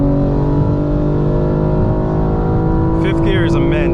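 A 2025 BMW M4 Competition xDrive pulls hard at full throttle, a loud, steady engine roar heard from inside the cabin with a high whine layered on top near the end.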